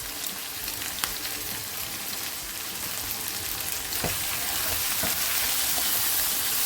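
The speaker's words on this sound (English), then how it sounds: "now stir well to combine." Sausage stew with cayenne pepper, basil and all-purpose seasoning being stirred in a pot, a steady close sizzle with a few soft knocks from the spoon and no talk.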